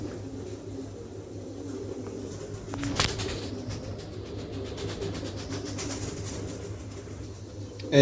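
A show-quality breeding pair of pigeons coos softly and steadily, with a brief flutter or rustle partway through over a low ambient hum.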